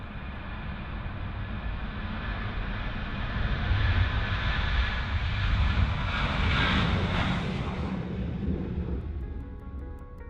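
An airplane coming in to land in a crosswind: a steady broad roar of engine and rushing air that swells toward the middle and eases off, with no voices.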